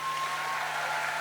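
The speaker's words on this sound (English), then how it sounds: "Huge round of applause for Karan Johar." Steady applause from an audience at a film promotion event for Karan Johar, a dense continuous wash of clapping throughout with no gaps.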